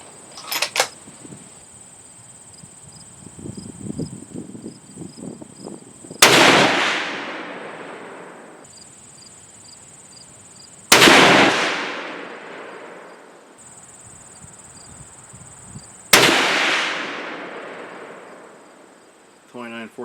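Three loud, sharp rifle shots with 130gr Sierra Game Changer bullets loaded over Reloader 17 powder, evenly spaced about five seconds apart, each with a long rolling echo trailing off, over a steady insect-like buzz and some faint background rustling.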